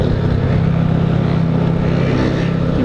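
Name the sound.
Honda Fan 125 and Start 160 motorcycles engines revving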